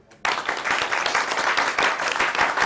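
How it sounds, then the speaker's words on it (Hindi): A studio audience on a morning TV show bursts into loud, dense clapping after a brief pause, voting for a winner; the applause stays steady and close for the rest of the moment. "सो मुझे तालियों से बताओ कि कौन विन कर रहा है।"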